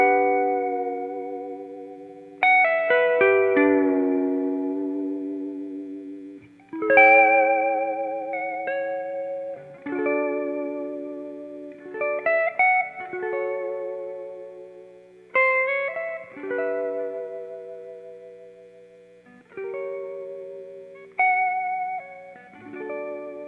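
Electric guitar played through a Dr. Z amp with its spring reverb tank turned up high: a series of strummed chords, each ringing out with a long, splashy, echoing tail before the next one starts.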